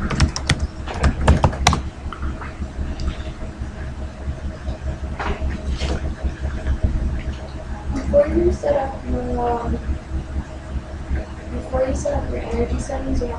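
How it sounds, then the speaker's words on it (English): A password is typed on a computer keyboard in an architecture studio workshop, with a burst of close key clicks and then scattered taps, while people talk over them. "it's because I'm typing the wrong password"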